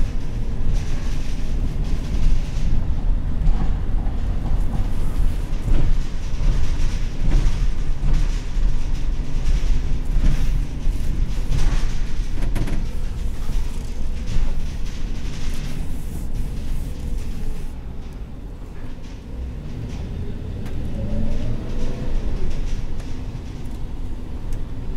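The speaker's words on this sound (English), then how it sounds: "Little bumpy over the bumps, but not bad for a commercial vehicle." Cabin of a 2020 GMC Savana 3500 cutaway van driving over bumps, a steady loud low rumble of road and engine noise with rattles and jolts throughout, no talk.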